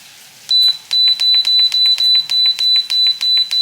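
A kitchen timer being set while potato soup cooks gives a steady run of about ten loud, evenly spaced high-pitched beeps, close up with no talking.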